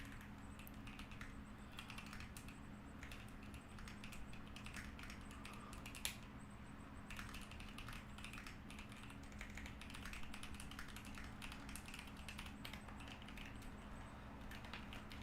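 Typing on a computer keyboard makes steady, faint key clicks in quick irregular runs over a constant low background hum.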